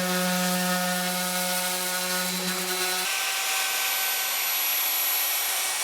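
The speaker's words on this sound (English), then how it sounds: "With my random orbital sander, I started at 80 grit to remove the belt sander lines" A random orbital sander at 80 grit works across an epoxy river table, giving a loud continuous whirring drone with a steady high hum that shifts pitch halfway through as the pad moves over the surface, with no talk.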